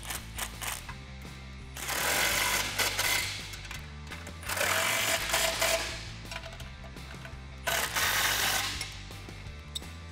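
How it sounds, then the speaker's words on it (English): Bolts on a 2019 RAM 1500 off-road front bumper are tightened with an 18 mm socket and wrench, giving bursts of ratcheting clicks separated by short pauses. "we're gonna take the 18 millimeter socket and 18 millimeter wrench and tighten down those three bolts"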